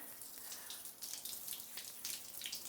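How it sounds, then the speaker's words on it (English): Shower water runs steadily after being turned on, a continuous hissing spray with faint splashes, alone and fairly quiet. "So I'm going to turn my water on,"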